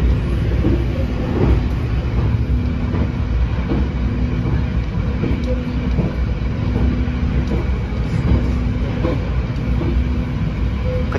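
KA Harina passenger train running at speed past a station, a steady loud rumble of wheels on rail with faint clickety-clack throughout, heard from inside the carriage.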